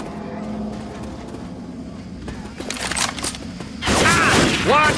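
Gunfire in the video game Left 4 Dead 2, on the No Mercy Rehab map, with sustained rattling bursts under game noise that intensify sharply near the end, mixed with whooshing effects.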